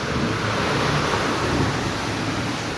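Heavy rain pouring, a dense continuous roar of hissing water, loud and unbroken, with no voices over it.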